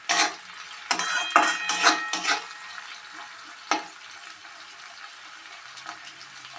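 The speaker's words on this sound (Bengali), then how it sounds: "যতক্ষণ না টমেটোটা গলে যাচ্ছে ততক্ষণ এইভাবে আমি ফ্রাই করতে থাকবো।" Tomatoes frying in a pan until soft, heard as a few sharp metal scrapes and clinks of a utensil against the pan over a faint background sizzle that fades toward quiet.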